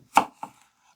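A 3.5-inch paring knife slices into an apple with two quick, crisp cuts close up, the first louder than the second, then quiet.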